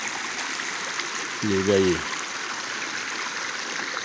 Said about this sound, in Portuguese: sentado nesse rio gostoso, olha o barulho das águas